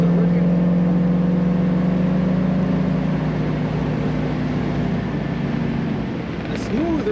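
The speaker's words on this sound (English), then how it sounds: "Smooth running Buick." Steady idling rumble of a 1966 Buick Wildcat convertible's V8 engine, a continuous low hum close by that eases slightly near the end, with some talking over it.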